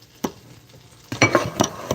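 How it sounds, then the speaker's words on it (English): Sausage fries in a pan while breakfast is cooked, with a soft sizzle under sharp clanks and scrapes of a utensil against the pan. "I'm cooking sausage"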